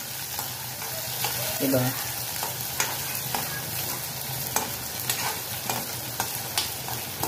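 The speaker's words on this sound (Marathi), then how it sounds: "आता कांदा ना लाल होईपर्यंत आपण परतणार आहोत." Onion frying in oil in a pan, with a steady sizzle and repeated stirring strokes, close by, while a voice speaks briefly over it.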